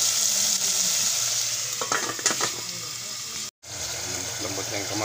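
Tomatoes stirred and cooking in a pan: a loud, steady frying hiss with scraping stirring strokes midway, a brief dropout, then continued sizzling with a voice talking underneath.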